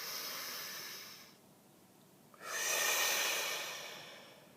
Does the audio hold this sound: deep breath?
yes